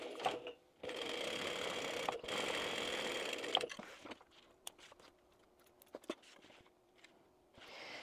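A sewing machine quilts stitches into a fabric bag, running in steady, close whirring bursts for a few seconds, then stopping and restarting in short, quieter stitching spurts with small handling taps between.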